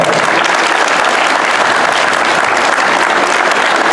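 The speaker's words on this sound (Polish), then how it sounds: "Duża oklaski dla niego!" Loud, dense crowd applause fills a hall at a Polish youth table tennis championship, a continuous and even roar of many hands clapping without pause.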